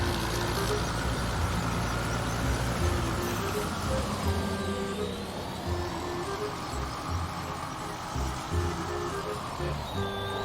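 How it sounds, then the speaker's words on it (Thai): A simulated combine harvester engine from Farming Simulator 19 hums and drones steadily, its pitch gently rising and falling, at moderate volume with no talking. "เสียงของรถนี่มี 2 เสียงนะผมอันนี้เป็นเสียงที่ 2 นะฮะ"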